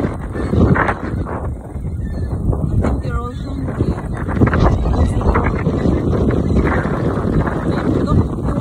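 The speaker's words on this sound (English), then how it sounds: "It's cold and windy." Cold, gusty wind buffets the microphone outdoors in a steady broadband roar, with faint bird calls and brief voices underneath.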